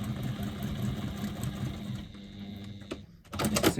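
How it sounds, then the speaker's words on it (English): Sewing machine stitching a quarter-inch seam to hold a zipper tab in place, a steady close mechanical whirr that stops near the end, followed by a few soft handling clicks. "we're just going to stitch a 1/4 inch seam allowance"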